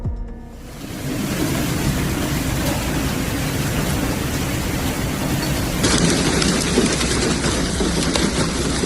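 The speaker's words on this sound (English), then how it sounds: "In West Sydney, hailstones the size of tennis balls fell on the roofs and cars." Hailstones the size of tennis balls pound roofs and cars during a storm in West Sydney, a dense, loud, unbroken roar of impacts that swells slightly in the second half, with no voices.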